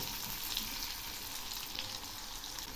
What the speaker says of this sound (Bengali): কুমড়ো ভাজা প্রায় হয়ে এসছে